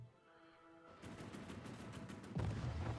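Rapid repeated gunfire and booms from a naval battle between battleships and destroyers in the strategy game Hearts of Iron IV, a steady loud barrage with a heavier boom near the end.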